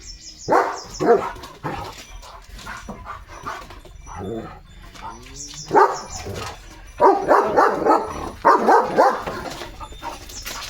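A German Shepherd barks repeatedly in short bursts, fairly close and loud, with brief pauses and some whimpering sounds between the barks.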